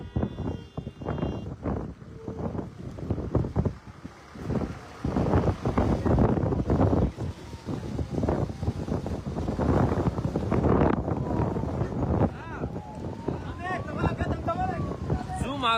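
Strong cyclone wind roars and buffets the microphone on the coast at Pamban bridge, with water splashing and rumbling throughout, loud and continuous, while someone talks over it.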